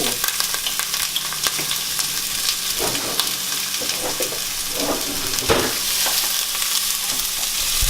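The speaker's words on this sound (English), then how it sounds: "What we're gonna do first is we're gonna go ahead and add our onions" Onions hit hot olive oil in a pan over medium heat and fry with a steady, bright sizzle, while stirring adds scrapes and clatter throughout, with no talking.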